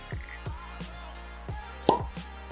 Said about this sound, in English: Quiet on the set for the Cork Pop.